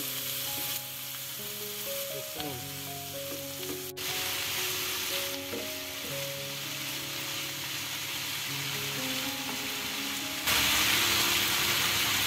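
Cabbage and egg fry and sizzle in a pan while being stirred, a steady hiss with occasional scraping and clinks, joined by a droning hum that swells louder near the end.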